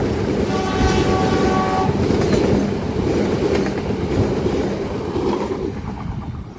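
A cargo train rumbles past close by near Kebon Agung, Malang, Indonesia, with a steady rolling clatter of wheels on rails, a horn sounding briefly near the start, fading slightly toward the end.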